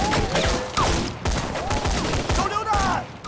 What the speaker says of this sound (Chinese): 射击。